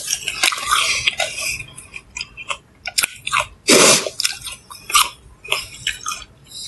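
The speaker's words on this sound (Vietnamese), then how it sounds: "nhai nghe thèm" Food being chewed during a mukbang livestream, close wet mouth and crunch noises in irregular bursts with a few louder clatters, no talking.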